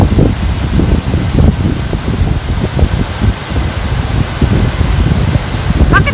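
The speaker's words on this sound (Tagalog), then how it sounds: "Mahangin kasi." Wind blowing by the Dubai Canal, heard as loud gusty buffeting rumble on the microphone, continuous with fluctuating bursts.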